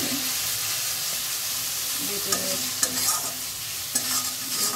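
Whole spices like cumin, coriander and cardamom frying in a hot pan, a loud continuous sizzle with a few sharp clicks of stirring over it.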